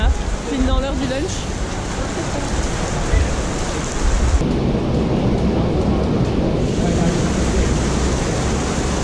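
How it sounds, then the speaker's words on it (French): Steady, loud rain during a light thunderstorm near the lunch hour in Greece, a dense continuous wash of noise that deepens and swells partway through, with rumbling low energy throughout and a brief voice early on. "orage quoi. Léger."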